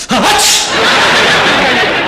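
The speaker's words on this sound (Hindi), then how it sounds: "कुत्ते का सोचेंगे ना तो आपको छींके ही आएंगी।" A sharp, loud sneeze bursts out up close, followed by a breathy, noisy exhale.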